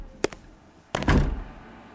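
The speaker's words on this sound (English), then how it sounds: "Close the door." A door thumps shut with a short knock-like tap followed by a heavier closing thud and brief rattle, close and fairly loud.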